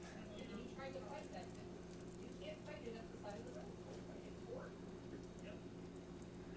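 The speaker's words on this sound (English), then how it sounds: "Look at the pan's boiling." Steady bubbling and sizzling from a pan of chicken noodle soup boiling on the heat, a constant simmering hiss with small pops and faint background voices.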